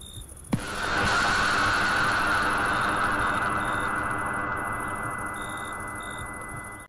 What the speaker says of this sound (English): The scare grenade gear skin activation sound has been updated.